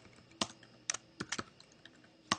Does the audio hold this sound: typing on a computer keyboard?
yes